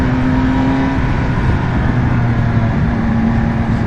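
A 2020 Triumph Speed Triple RS motorcycle engine runs under load at a steady, buzzy drone with a constant humming tone, loud and close, as if heard while riding.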